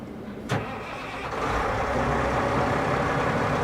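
A Caterpillar C15 engine in a mining truck cranks with a sharp click and then catches, settling into a loud, steady diesel rumble that keeps building and holds close by.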